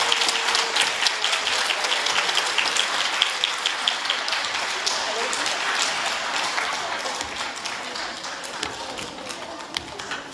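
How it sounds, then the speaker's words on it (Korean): Applause after an elementary school orchestra's autumn charity concert: a sustained patter of many hands clapping at moderate distance with scattered sharper claps, and no talk. "박수 한번 더 부탁드립니다."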